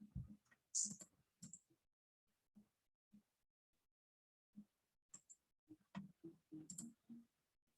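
A computer mouse clicks during an AWS Cloud Quest networking session, sparse sharp taps in small clusters separated by quiet gaps, near and faint.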